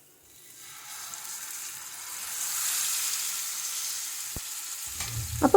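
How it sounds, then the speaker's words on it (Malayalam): Marinated fish frying in coconut oil in a non-stick pan, a steady close sizzle that swells and holds, ending with a few sharp clatters of a utensil against the pan. "ഇനി നമുക്ക് നമ്മൾ നേരത്തെ മാരിനേറ്റ് ചെയ്ത് വെച്ച മീനൊന്ന് ഫ്രൈ ചെയ്തിട്ടെടുക്കാം."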